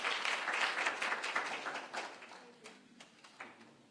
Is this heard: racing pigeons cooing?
no